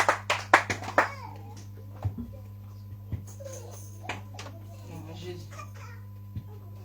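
A church congregation at a Wednesday service claps to acclaim Jesus: a few sharp, loud claps at the start, then scattered fainter claps over a steady low hum.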